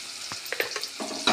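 Onions and turmeric frying in oil in a pan for tempering chickpeas, a soft continuous sizzle broken by a few stirring scrapes and a louder hiss at the end.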